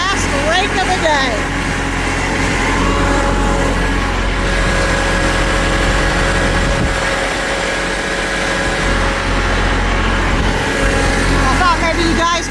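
A tractor engine runs steadily at mid revs while raking, a continuous loud drone with a low rumble and faint mechanical whine holding throughout, no voices over it.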